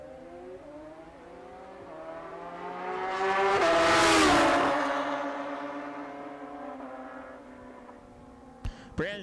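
Super Pro drag racing bikes launching at WWT Raceway, a loud high engine wail that rises to a peak around the middle of the clip and then fades as they pull away, ending in a few sharp pops.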